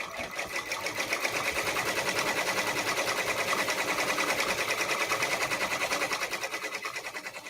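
An embroidery machine stitches a letter onto a felt hat, a rapid steady mechanical chatter with an even needle rhythm that runs close and loud throughout, with no talking over it.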